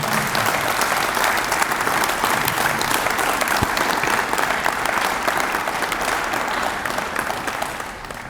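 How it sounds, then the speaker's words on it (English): A crowd at the East High football Ring of Honor ceremony breaks into loud, sustained applause, a thick wash of clapping holding steady for about eight seconds before easing slightly at the end. "Can we get a round of applause for the East High Football Ring of Honor?"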